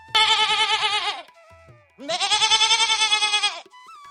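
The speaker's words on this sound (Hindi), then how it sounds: "देखा देखा, ये बकरी ही है।" A goat bleats twice, two loud, wavering calls close by, each just over a second long with a short pause between them.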